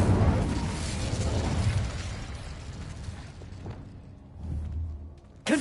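Incendio fire spell cast in Hogwarts Legacy, a loud whooshing burst of flame that tapers off, followed by a smaller pop and a sharp hit at the end.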